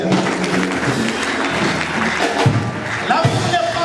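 A church congregation at a memorial service bursts into sustained, dense applause, loud and close, with voices calling out and talking through the clapping the whole time.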